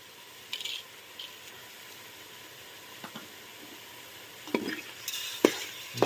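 A soft sizzle and hiss rise from a chicken biryani mixture as salt is stirred in, with occasional scraping strokes and clinks growing busier toward the end.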